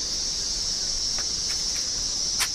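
Cicadas sing in eucalyptus bushland near Sydney, Australia, a steady high-pitched shrill drone that holds throughout. Brief clicks and rustles pass over it now and then.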